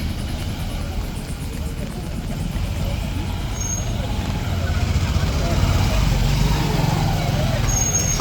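Busy street traffic in Asansol city, with a continuous dense rumble of cars, trucks and buses passing close by, engine noise building slightly over time and an occasional brief high tone, with a voice talking underneath.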